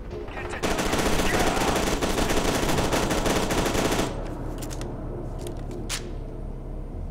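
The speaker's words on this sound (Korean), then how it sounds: "누가 날 쏘고 있나?" Sustained automatic gunfire in the first-person shooter F.E.A.R. 2, loud and dense for about four seconds before it drops to scattered single shots and impacts.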